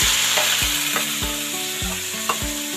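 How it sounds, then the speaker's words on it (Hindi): Chopped onions fry in leftover oil in a kadhai, with a loud, steady sizzle broken by regular scraping strokes of a spoon stirring roughly every half second. "तो बस कढ़ाई में ऑयल जो बच गया, इसके अंदर मैं ये प्याज डाल दूंगी।"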